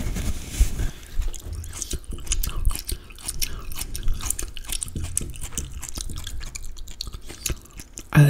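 Close-up ASMR eating of watermelon, with wet chewing, biting and slurping in a rapid irregular stream of squishy, juicy crunches, loud and intimate with no talk.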